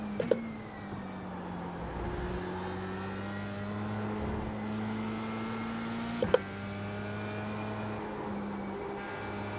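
Formula 4 open-wheel race cars in a racing sim game drone steadily at a near-constant engine pitch, with a couple of sharp clicks or bumps cutting in, the sustained tone running the whole time with no talk.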